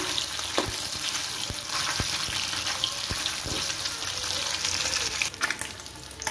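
Pieces of rohu fish fry in hot oil in a pan, a constant close sizzle punctuated by sharp spatters and a few utensil knocks, with no voices.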